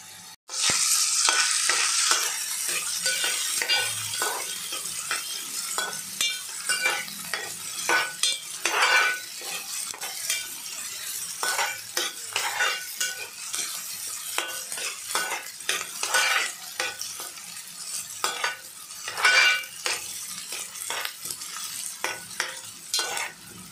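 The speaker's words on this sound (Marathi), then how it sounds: "कांदा परतून झालाय तर मी टोमॅटो टाकत आहे।" Tomatoes sizzling in a pan with sautéed onions for a spicy prawn masala, a constant close frying hiss punctuated by repeated scraping and clinking stirs of a utensil against the pan.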